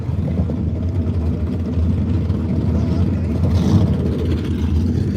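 A pulling tractor's engine drones through its final pass at the DVRW Winter Shootout qualifying round, a steady, loud low-pitched roar that holds without pause from start to finish.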